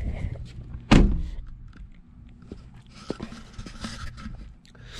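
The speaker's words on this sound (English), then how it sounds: "Turn it over here and shut this door." A car door slams shut with one loud, close thunk, followed by quiet garage rustling and faint clinks.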